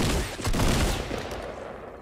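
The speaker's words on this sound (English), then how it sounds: "I got a pump." A pump shotgun fires in a Fortnite Battle Royale match, a single loud, close blast whose noisy burst fills the short moment and then trails off.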